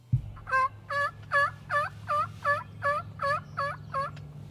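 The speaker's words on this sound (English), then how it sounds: "just gobbled over here" Wild turkey gobbling in a loud, near run of about ten rapid, evenly spaced warbling notes, heard outdoors in hardwoods on a hunt, with a brief knock at the start and no talking.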